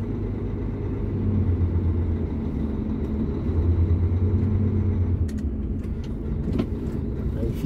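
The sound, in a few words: truck reversing slowly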